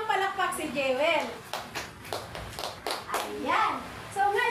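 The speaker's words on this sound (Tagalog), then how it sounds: "So bigyan naman natin ng palakpak si Jewel." A class of students claps for a classmate, with scattered hand claps and taps mixed into a teacher's speech, moderately close.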